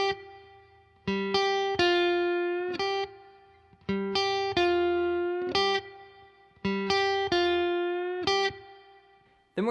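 Electric guitar playing a blues lick, clean and close with light effects, repeating the same bent-note phrase in a steady counted rhythm four times, each chord ringing out before the next.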